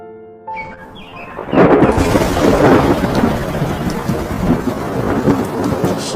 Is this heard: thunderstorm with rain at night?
yes